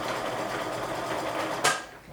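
A sewing machine runs steadily up close as it stitches a quarter-inch seam along the edge of a mesh wash bag, then stops with a short clunk at the end.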